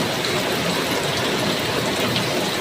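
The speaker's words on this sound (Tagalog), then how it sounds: "Diba, ang lakas ng ulan." Heavy rain pours steadily on a flooded street outside a barbershop during a wet morning, a loud, dense, continuous hiss of downpour with no talking.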